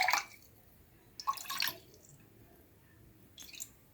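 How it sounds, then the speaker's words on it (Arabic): Water is poured into drinking glasses in three short splashing bursts, close and fairly loud, with quiet gaps between pours and no talk. "هحط لها جزء بسيط من الميه كده"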